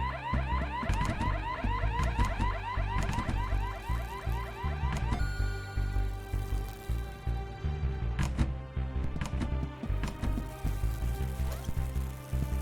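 A repeating electronic alarm wails in rising sweeps from the game Horace, loud and close for the first five seconds, then fading under other game sounds and music with occasional thumps.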